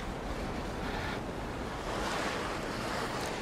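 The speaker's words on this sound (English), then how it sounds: "And wind." Wind gusting across an open beach mixed with breaking surf, a steady loud broadband roar that swells slightly toward the end, with no voices.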